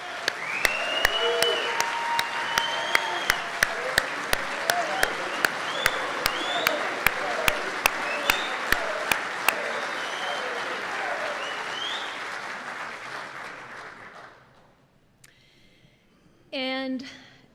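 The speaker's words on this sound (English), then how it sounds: "I'd like to ask for a round of applause" Audience applause fills a recognition ceremony, sustained and dense with sharp claps standing out, then fading out after about fourteen seconds before brief noises at the end.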